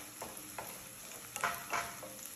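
Garlic stirred in a pan for chicken breast risotto, a faint steady frying hiss with several soft scraping strokes of a spoon against the pan, quiet and close.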